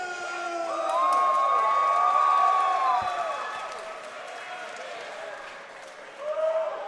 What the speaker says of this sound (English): let's give a big round of applause for Alius Delarosa!